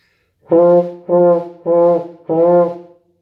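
Four sustained notes on a wind instrument played without tonguing, each starting softly without a crisp attack, separated by brief pauses and played alone.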